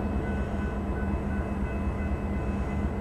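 A Canadian Pacific freight train rolls past at Rouses Point near the junction toward Canada, a steady low rumble of wheels and cars with a faint high whine, continuous and fairly close with no voices.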